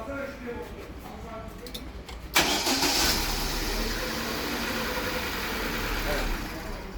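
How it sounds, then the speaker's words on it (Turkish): A car engine, after an incorrect jump-start fault, cranks and catches with a sudden burst, then settles into a steady, loud idle that runs to the end, with faint talk beforehand. "Bir marşına basalım."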